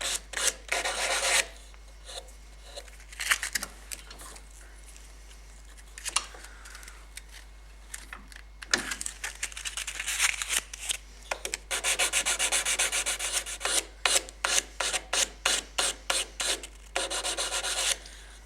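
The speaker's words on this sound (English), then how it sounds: "You can even tidy the ends up by filing the sharp edge off" A file rasps against the sharp edge of a wooden air rifle pull-through, with bursts of scraping strokes that start sparse and become a rapid, steady rhythm of short close strokes, with no talking.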